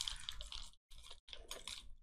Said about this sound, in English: let's pour us up a next gen bowl